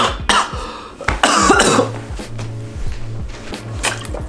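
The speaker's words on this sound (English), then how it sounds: "I just choked on my cough drop" Someone coughs hard several times in close, rough bursts after choking on a cough drop, with throat-clearing and wet, gagging sounds between them.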